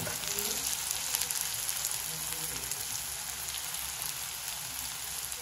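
Garlic and ginger hitting very hot oil, a dense, steady sizzle and crackle like light rain, continuous and close throughout.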